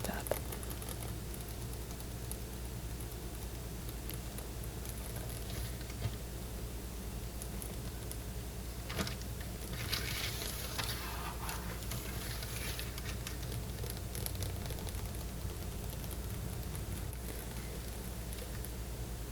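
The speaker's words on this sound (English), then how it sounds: "The pitter-patter sound of the nails on the chocolate" Fingernails tap and scratch lightly on a giant chocolate bar, a soft, close pitter-patter of quick clicks with a brief rustling burst midway, over a quiet steady background.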